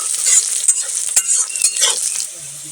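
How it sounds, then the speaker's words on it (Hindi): Sliced onions frying in a pan as they are stirred, a close bright sizzle with scraping strokes and a light clink of the utensil against the pan. "अब अच्छे से इसको हम भून लेते हैं"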